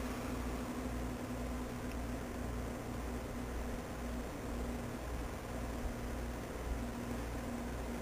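Steady broadband whoosh of an air conditioner running nearby, with a low constant hum underneath; unchanging throughout with no speech.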